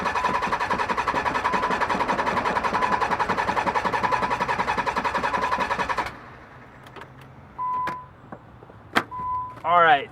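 A Nissan 300ZX with a fuel pump fault cranks with gas applied: a loud, steady, rapidly pulsing whir for about six seconds that stops without catching, followed by a few short electronic beeps and faint knocks.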